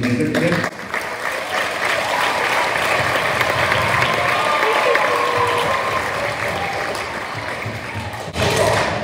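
A school Christmas concert audience bursts into loud, sustained applause, dense clapping from a large crowd that holds steady throughout and swells again near the end.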